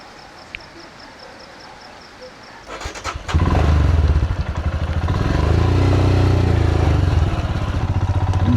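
Motorcycle ridden through rain in Arunachal Pradesh: quiet at first, then the engine roars in abruptly near mid-clip and holds a loud, close, steady rumble with clattering road and rain noise.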